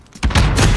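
A stun grenade detonates in Modern Warfare 2019 multiplayer gameplay, one close, loud, dull boom that swells and lingers briefly.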